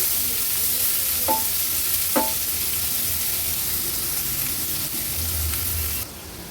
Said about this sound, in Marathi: कांदा व्यवस्थित शिजवून घ्यायचा आहे गॅसची फ्लेम मी आता लो टू मिडियमवर ठेवते कांदा शिजवताना